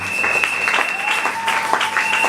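Congregation applauding during an Easter church service, steady mid-distance clapping with a sustained tone and a few voices threaded through.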